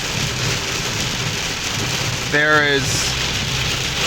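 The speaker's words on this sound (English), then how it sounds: "The rain is extraordinary." Heavy rain pounds a car driving through a Kansas thunderstorm in tornado-like conditions, a dense, steady roar filling the whole clip, with someone speaking briefly near the middle.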